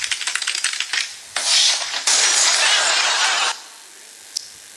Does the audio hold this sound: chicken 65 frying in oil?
no